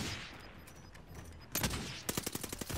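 Gunfire in Call of Duty Warzone on the Fortunes Keep map: a quieter stretch of ambience, then a sudden close burst of rapid automatic shots that rattles on loudly to the end.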